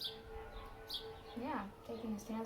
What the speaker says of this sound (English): Excuse the sirens, I live very close to a